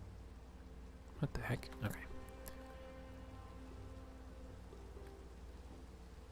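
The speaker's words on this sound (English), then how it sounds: "I think these rain sound effects are new" Steady rainfall hisses through a Minecraft game scene, with a few louder close bumps near the start and someone briefly speaking.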